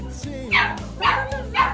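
Labrador puppies at a kennel give three evenly spaced, high yipping barks close by, over a low steady background.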